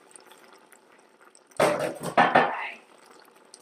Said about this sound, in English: So I'm going to add a litre of water. Just hot water from your tap.